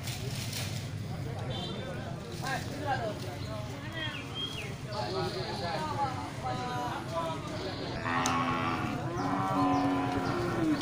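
Cattle moo loudly and repeatedly amid a busy crowd at a livestock market, with people talking and hooves clattering in the background.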